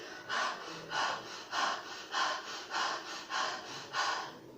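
A voice imitates hard breathing for a phonics H sound, giving eight rhythmic, breathy exhalations at an even pace, close and clear with no words.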